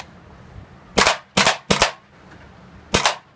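WE-Tech G36 gas blowback airsoft rifle firing four sharp, loud, close shots, three in quick succession and one after a pause, each a hard crack with a recoil clunk and no talk.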